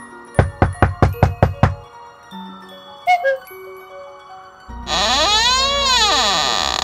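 Knocking on a door as a sound effect: seven quick, loud, evenly spaced knocks, then a pause filled with faint tonal effects and a swelling, wavering synthetic tone at the end.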